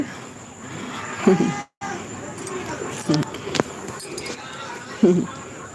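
Buffalo on a village farm low repeatedly in short deep calls, three distinct moos spaced a couple of seconds apart, fairly close, with outdoor background noise and some talk around them.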